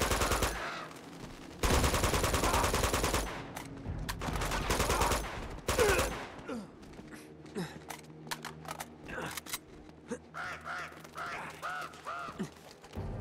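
Game gunfire in Uncharted 2: loud bursts of rapid shots in the opening seconds, then scattered shots, impacts and action noise with a voice talking over the later part.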